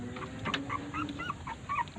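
Stray puppies rescued from a garbage dump whimper and yip in short, high, repeated cries, fairly faint and close against a quiet background.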